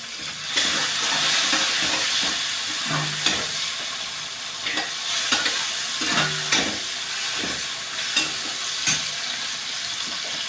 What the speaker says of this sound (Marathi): थोडा टोमॅटो झाल्यावर आपण तिखट मीठ आणि शेंगा आहे या घातल्या